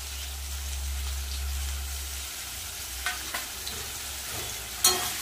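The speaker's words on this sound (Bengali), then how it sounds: "মশলাটা দিয়ে ভালো করে টমেটো আর আলুটা কষিয়ে নেব।" Spice paste of green and dried chilli, cumin, ginger, salt and turmeric sizzles steadily in a pan with tomato and potato, low constant frying broken by a few stirring scrapes and clinks near the mic.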